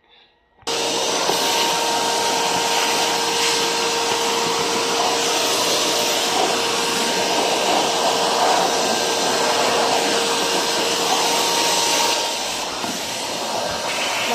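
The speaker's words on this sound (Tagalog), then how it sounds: "So, iba-vacuum natin ulit para matanggal." A vacuum cleaner sucks dust out of an air conditioner indoors. It switches on sharply and then holds a loud, steady hissing roar with a constant whine until the end, with no talking.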